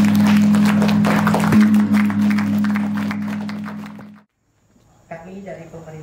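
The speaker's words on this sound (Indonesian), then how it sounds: "mohon tepuk tangan" Audience clapping at a village anti-drug launch event: a dense, steady applause with a strong droning tone beneath it, fading out after about four seconds, then a brief pause before a voice starts speaking.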